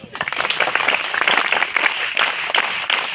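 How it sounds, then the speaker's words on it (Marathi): Students at Late R. S. Berde Vidyalaya in Sapuchetale, Lanja, Ratnagiri applauding loudly at a school picnic outing, a close, vigorous burst of many hands clapping that swells and continues steadily. "जोरदार एकदा टाळ्या होऊ दे."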